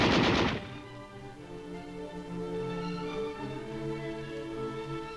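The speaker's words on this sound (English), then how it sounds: "new small arms like the M60 machine gun, which is replacing the old heavy and light machine guns" An M60 machine gun chambered for 7.62 NATO rattles off a short, loud, close burst of rapid shots, then gives way to sustained tonal music.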